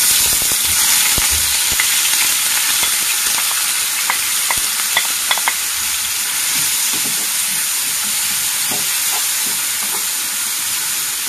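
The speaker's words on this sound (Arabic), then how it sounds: "وغادي نديرو هاد البصله ديالنا باش تقلى" Chopped onion fries in a tablespoon of vegetable oil, a loud, close, continuous sizzle with bright hiss and scattered sharp pops and spatters, with no one talking.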